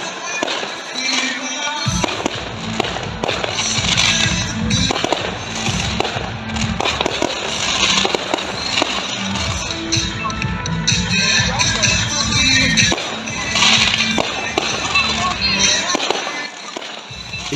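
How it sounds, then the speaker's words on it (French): A fireworks display with background music plays out as a steady run of loud bangs and crackles over music, with crowd noise and talk running through it. "Le feu d'artifice était accompagné d'un fond musical."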